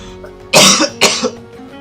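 Two forceful coughs close together, loud and near, followed by a short throaty rasp.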